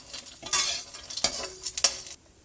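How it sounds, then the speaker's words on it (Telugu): Raisins frying in a pan on a low to medium flame, with soft sizzling under several distinct scrapes and stirs of a spatula, close and moderate in loudness, no talking. "కిస్మిస్ కూడా ఫ్రై చేసి వేస్తున్నాను"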